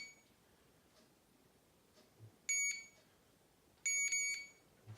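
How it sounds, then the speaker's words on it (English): A REMPOD paranormal research device gives two short bursts of high, electronic beeping in quick pulses, clear and close against a faint, quiet background. "the device deflects in 3 levels and then beeps at the top"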